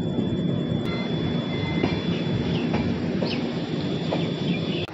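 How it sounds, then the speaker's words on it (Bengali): A train pulls into a station platform with a continuous rumble of wheels on rails, thin squeals and scattered clacks, steady and fairly close, with no voices. "আমাদের ট্রেনটা 5 নম্বরে ঢোকালো"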